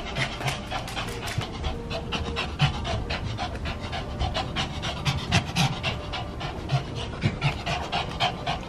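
Dog panting rapidly and steadily throughout, close and fairly loud, with no talk over it.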